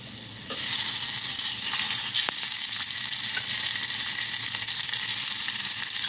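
Garlic frying in a pan, a dense, even sizzle that starts suddenly and holds steady at moderate loudness, with a few faint clicks.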